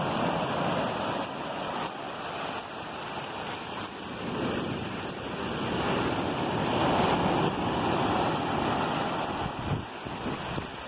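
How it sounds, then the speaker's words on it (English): Huge ocean waves crash and roar continuously at CasaBlanca, Venezuela, a broad, loud surf wash with wind buffeting the microphone and swelling surges throughout, no voices heard. "The waves are huge."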